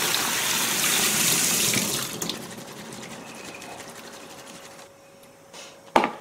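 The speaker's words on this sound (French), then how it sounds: "Retirez-les et passez-les sous l'eau froide pour les refroidir." Cold tap water runs onto broad beans in a kitchen sink with a loud splashing gush, then settles into a quieter trickle, ending with a faint clatter near the close.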